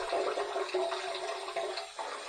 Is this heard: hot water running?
yes